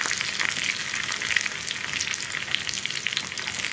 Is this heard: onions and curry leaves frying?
yes